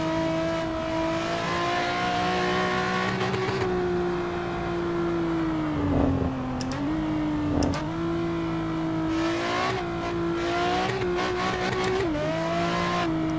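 Video game car engine humming steadily while driving under a bridge, a sustained tonal drone with pitch shifts as the engine revs up and eases off, plus a few brief bumps along the way.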